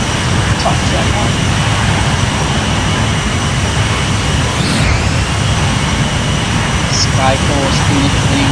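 Jet engines of an Embraer E-Jet airliner in the Prepar3D v4.3 flight simulator hum as a constant broadband roar, steady and loud throughout, with a few faint cockpit chimes and clicks on top.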